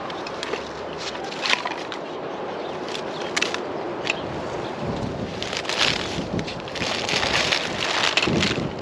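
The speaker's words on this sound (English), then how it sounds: "As you might be able to tell from here and everything, it's quite windy" Strong wind blows outdoors by a skate park, buffeting the microphone in heavy rumbling gusts that swell and fade, loud and continuous with no talking.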